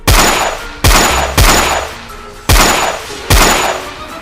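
Five rifle shots ring out one after another, each a loud sharp crack with a long echoing tail, spaced roughly half a second to a second apart.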